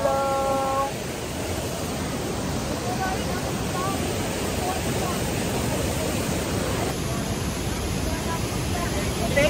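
A waterfall in Sa Pa, Vietnam pours in a loud, dense and continuous rushing roar, with voices faintly audible beneath it.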